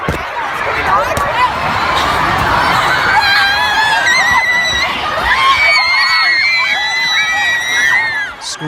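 A terrified concert crowd screams and shrieks in panic after a bomb blast, many high voices overlapping in a dense, loud, sustained wave of cries.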